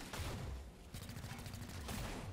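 Rapid volleys of gunfire in XCOM: Chimera Squad crackle in quick succession, many shots stacked in a dense rattle, rather faint and distant in the mix, with a short lull midway before the firing resumes.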